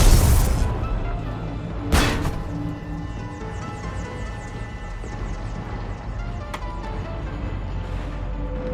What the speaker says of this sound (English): the Creator fleet is firing upon this vessel